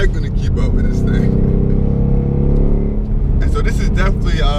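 A 670 bhp Roush 670 Warrior Scout Mustang driven hard on a twisting snake road, its engine roaring loud and steady with a sustained drone, while someone talks over it.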